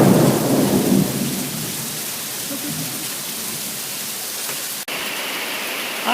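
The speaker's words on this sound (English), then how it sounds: "Yep, that was thunder." A sudden downpour of heavy rain hisses steadily on surfaces, with a rumble of thunder rolling in at the start and fading under the constant wash of rain.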